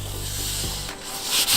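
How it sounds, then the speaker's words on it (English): Fiberglass cloth and resin being sanded down on a surfboard ding repair, a close continuous abrasive rubbing that shifts in tone partway through, with no voices. "I'm gonna sand this down."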